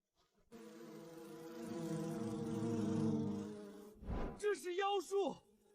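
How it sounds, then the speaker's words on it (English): A steady buzzing drone of wild bees swells for a few seconds and then fades, followed by a short burst of voice. "See if the wild bees will swarm around him."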